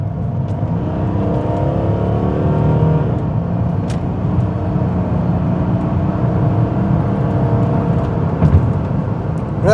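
A Renault Vel Satis diesel car accelerates hard up a big hill at the national speed limit, heard from inside as a steady, loud engine drone with rising pitch and road rumble, no talk.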